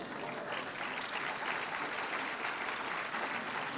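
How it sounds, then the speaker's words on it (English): An audience at a lecture claps continuously, a dense, even wash of applause that fills the room throughout without letting up. "That's always a very easy applause line when I'm in Delaware."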